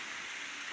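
Steady, even hiss of rain falling in the video game Genshin Impact, a soft continuous wash of drops with no distinct impacts, heard alone and fairly faint.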